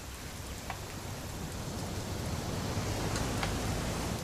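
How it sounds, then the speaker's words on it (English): Steady, even hiss of rain falling in a video game, broadband and unbroken, with a few faint drip ticks; no voices. "It's gonna rain the whole weekend"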